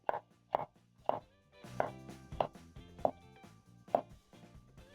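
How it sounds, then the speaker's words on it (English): A knife cuts through a tomato on a board in a home kitchen, giving about eight crisp, evenly spaced chops close up and fairly quiet, with no talking. "I'm going to slice my next tomato"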